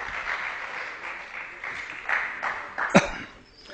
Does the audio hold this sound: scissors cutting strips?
no